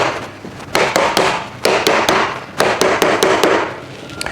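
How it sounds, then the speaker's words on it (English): A hammer drives wooden plant stand parts into place, making about a dozen sharp knocks in uneven bursts. The blows are close and loud, with no talking. "Last one, and hammer it into place."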